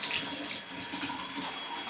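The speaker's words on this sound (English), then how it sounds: "I'll just fill this container up pretty full." Hot tap water runs steadily into a container being filled for fabric dyeing, a continuous close splashing rush with no speech over it.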